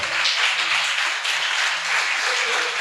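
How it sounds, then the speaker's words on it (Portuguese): A church congregation applauds together at a service, a dense, steady wash of many hands clapping that fills the room without pause. "Aplauda a palavra do Senhor."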